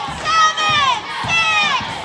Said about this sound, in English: Crowd's counting it down.